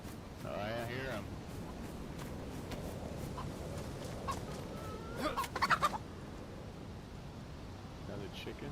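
A chicken in the survival video game DayZ clucks out in the Chernarus countryside, a few soft, brief clucks beneath steady outdoor ambience, with someone speaking in the scene.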